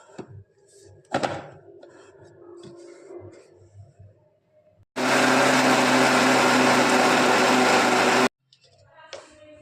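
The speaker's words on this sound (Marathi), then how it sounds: "परत दुसरी तीळ मिक्सरमधून फिरून घेऊ" Mixer grinder whirring loudly as it grinds roasted sesame seeds, a steady roaring motor run of a few seconds that starts and stops abruptly, with quieter handling clatter and knocks before and after.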